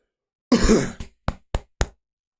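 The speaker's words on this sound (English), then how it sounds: "I coughed as I joked about Tony's troubles." A single cough bursts out up close, then four short, sharp cough-like bursts follow in quick succession, loud against an otherwise silent background.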